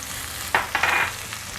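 Garlic and onion drop onto chicken frying in a pan, a sudden sizzling burst with a couple of stirring scrapes, close and loud over a short span, for Christmas chicken sauce.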